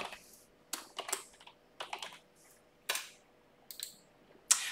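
Close keystrokes on a computer keyboard as a message is typed, coming in short clusters of crisp clicks separated by brief pauses, with no voice present.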